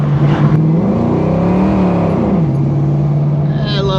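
A Fox body Mustang with GT40 heads, E-cam and a Vortech supercharger roars on a dyno, its loud, close engine note sustained and sweeping up and down in pitch as it revs through the gears.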